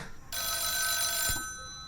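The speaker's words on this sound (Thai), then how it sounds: "รับโทรศัพท์" A telephone bell rings with a bright, sustained metallic tone for about a second, close and loud, then cuts off with a soft thud.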